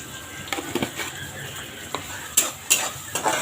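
Onion and tomato sauté in a pan while a spoon scrapes and clinks against it in quick irregular strokes over a soft, steady sizzle, close by with no talk.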